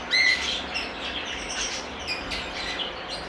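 Lovebirds, including a breeder pair, chirp in a bird shop in Pakistan, with faint, scattered high tweets over a low background hum.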